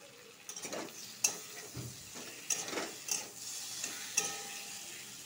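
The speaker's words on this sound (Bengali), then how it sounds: "মশলাটা ভাজা ভাজা হয়ে গেছে" Spices such as chili powder frying in a pan while being stirred, giving a soft sizzle broken by scraping clicks of a spoon against the metal, close and fairly quiet with no talk.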